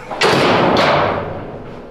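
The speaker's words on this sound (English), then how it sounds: "And then we close this big old bomb-proof door here." A heavy bomb-proof door at a fire station swings shut with a loud close rumbling whoosh and thud, followed by a second heavy impact and a fading roomy rumble.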